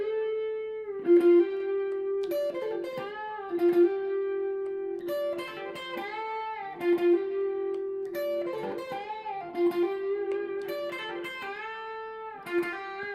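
A Classic Vibe 62 reissue electric guitar played with light distortion rings out in short melodic phrases of sustained, overtone-rich notes and bends through an amp at modest volume, with no talking.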